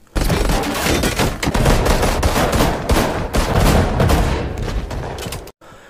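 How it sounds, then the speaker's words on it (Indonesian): Gunfire from the Penguin's henchmen in a Batman film: a dense, loud fusillade of rapid automatic shots and bursts lasting several seconds, then cutting off abruptly. "Mereka pun harus diberondong dengan tembakan-tembakan yang dilayangkan anak buah Penguin itu."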